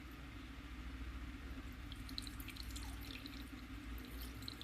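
Water squirted down the outside glass of a salmon bird eater tarantula's tank, giving soft, steady trickling and dripping over a low background hum, with faint droplet ticks scattered throughout.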